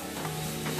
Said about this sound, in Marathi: तेल गरम झाल्यावर यात बारीक चिरलेला कांदा, हा कांदा व्यवस्थित लाल होईपर्यंत